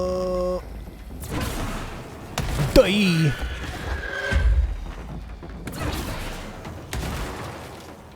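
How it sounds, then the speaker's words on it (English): Explosions and gunfire in the action game Control, with heavy booms, thuds and whooshes among synthetic effects, and a voice speaking over the chaos. "Ah, so many explosions."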